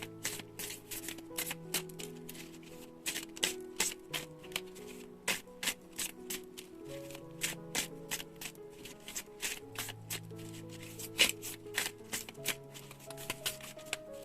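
Tarot cards being shuffled by hand, a steady run of crisp riffling and slapping card sounds over soft background music, close and fairly quiet, with no talking.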